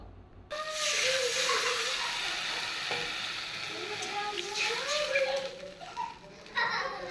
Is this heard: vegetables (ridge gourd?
yes